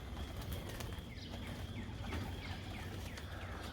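Young pigeons leave their loft: faint wing flaps and soft cooing sit over a quiet outdoor hum, with scattered bird sounds spread across the stretch at moderate distance.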